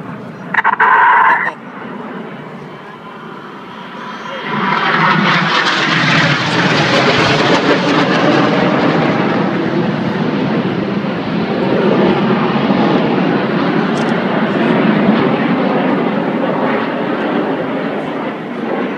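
Red Arrows jet display team pulling high-G turns during an air show display at Torquay, a sustained loud roar that swells after a brief burst and holds steady as the synchro pair turn away.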